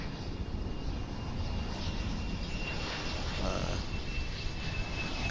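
An Embraer 145 regional jet at DFW International Airport gives a steady broadband roar and hiss with a faint high whine, heard from a distance and holding even throughout.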